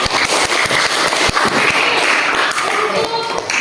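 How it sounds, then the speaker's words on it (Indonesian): Schoolchildren clapping for a classmate in a primary classroom, a quick burst of many close, uneven hand claps layered over chatter for a few seconds. "Oke, tepuk tangan dulu Naila."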